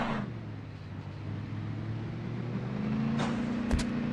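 A stuck vehicle in Call of Duty Mobile holds a steady engine drone that rises slightly in pitch as it revs in place, moderately loud and continuous with no talking.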